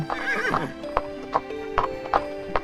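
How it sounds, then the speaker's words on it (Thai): A horse gives a loud, shrill neigh, then its hooves clip-clop in a steady, close rhythm as it is ridden along. "ปู่ของเด็กชายเห็นเด็กชายหกล้มจากไกล ๆ จึงขี่ม้าเข้าไปหาด้วยความเป็นห่วง"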